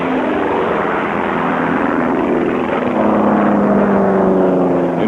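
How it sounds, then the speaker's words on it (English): A red and cream P-51 Mustang racing plane at the 1970 Reno air races roars past with a steady, loud propeller and engine drone that swells slightly toward the end, heard alone without talk. "And the red and cream P-51 of Leroy Penhall."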